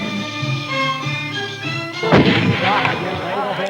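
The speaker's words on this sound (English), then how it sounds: "showing off their shooting skill" Tribal warriors on a mountain fire guns in a display of shooting skill while welcoming a procession. A sharp burst of gunfire erupts about halfway through, cutting loudly into a busy background of voices and ambience.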